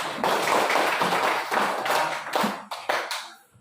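Schoolchildren clap their hands in a loud, dense burst of applause that carries on steadily, then trails off into scattered final claps.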